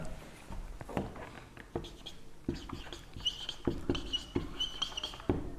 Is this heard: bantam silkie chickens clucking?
no